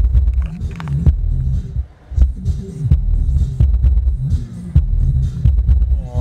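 A GTX 1300T car subwoofer plays music with deep, pounding bass thumps in a steady beat, loud and close, with little else heard.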